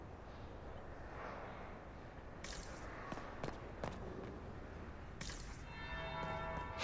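A bell tolls in a video game, the second bell marking an arrival at a grand ball; a few bright, ringing strikes sound over a steady murmur of crowd ambience, with a longer resonant peal near the end.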